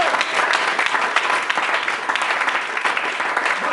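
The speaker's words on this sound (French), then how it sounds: "On peut l'acclamer." A church congregation applauds steadily, a dense and even burst of clapping from many hands that fills the whole stretch without a break.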